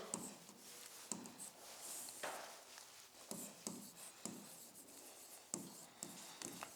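Chalk or a marker scratches across a classroom board during a science lecture. The strokes come in short, rhythmic bursts with soft taps between them. The sound is faint and close, and no voice is heard.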